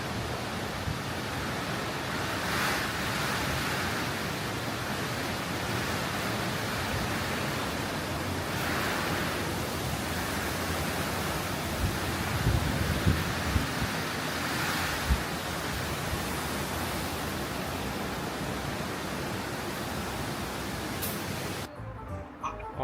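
Strong storm wind and crashing surf make a continuous, loud roar with slow swells of breaking waves. The roar holds steady for over twenty seconds, then cuts off abruptly near the end.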